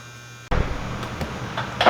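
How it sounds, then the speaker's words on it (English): An orbital sander starts up abruptly and runs steadily against a Ford 1700 tractor clutch part, a loud continuous buzzing whir with slight surges toward the end. "Alright, so I'm just going to hit it with the orbital sander."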